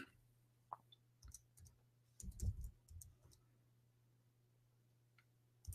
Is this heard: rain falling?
no